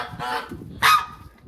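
A couple of nasal goose honks up close, the second sharper and louder, with quiet rustling around them.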